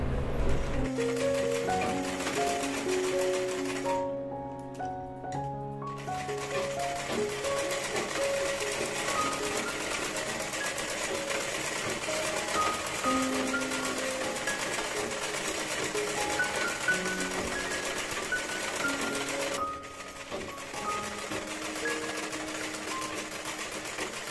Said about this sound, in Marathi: आता अस्तरच्या आकारात याला पूर्ण शिलाई मारून जॉईंट करून घेऊया.